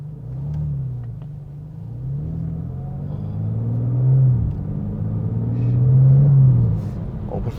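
2025 BMW M4 CS driving gently in M mode, its engine a low steady rumble from inside the cabin that swells a couple of times as the car accelerates, with faint interior noises.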